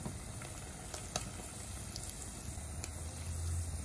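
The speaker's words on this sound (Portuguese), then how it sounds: "o óleo também não pode estar muito fervendo, então ela frita de uma vez" Ham and cheese rolls fry in oil that is not too hot, giving a quiet, steady sizzle with soft popping bubbles and occasional sharper crackles, with no talking.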